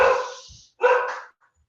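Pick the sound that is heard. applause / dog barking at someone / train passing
dog barking at someone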